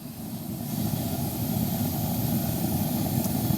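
A Cast Master Elite GG-5000 propane burner roars with a steady, even flame, a dense low rumble that holds constant and close without sputtering or breaks.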